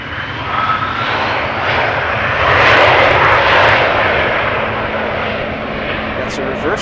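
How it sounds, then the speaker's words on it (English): A KLM airliner lands and engages reverse thrust, the engine roar surging to a louder peak midway then easing, with a person talking over it throughout. "KLM using the reverse thrust"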